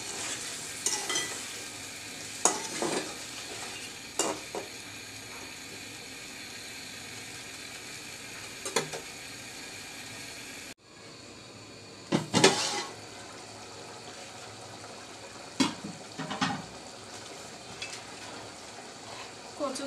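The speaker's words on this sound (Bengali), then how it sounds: "মশলা কষানোর সাথে কচুরছড়াটাও কষানো হয়ে যাবে।" Taro stolons sautéing with spices in a pan, a continuous low sizzle broken by scraping stirs and occasional clatter, fairly quiet and without speech.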